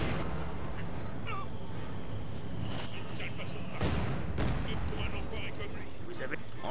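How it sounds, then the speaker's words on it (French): A grenade blast in Company of Heroes amid a World War II battle on the Eastern Front, a sharp booming explosion near the middle against steady background gunfire and rumble, with soldiers' voices shouting in French. "Merde, grenade. On se replie."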